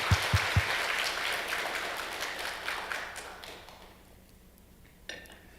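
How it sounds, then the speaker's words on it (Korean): A congregation at a Wednesday church service claps for three invited guests, a burst of applause that fades out over a few seconds, followed by near silence and one late clap. "박수 한번 더 합시다."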